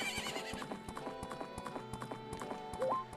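Epona, a horse in the Zelda: Majora's Mask video game, gallops at Romani Ranch with steady rhythmic clip-clop hoofbeats and a brief whinny near the end, over game music.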